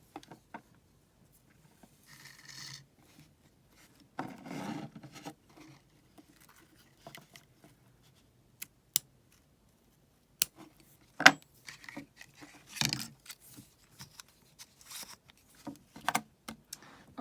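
Scissors snip through ribbon in a quiet room, making a series of short, crisp cuts with pauses between them and soft handling rustles.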